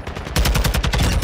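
Rapid automatic gunfire in a battle royale video game hammers out about a dozen loud, close shots in a fast, steady burst after a brief lull.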